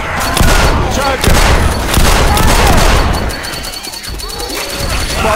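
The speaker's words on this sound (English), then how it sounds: "Throwing a pipe bomb." Loud video game combat in a zombie shooter: dense gunfire and crashing impacts with a pipe bomb thrown and exploding, constant chaotic bursts under in-game character voices.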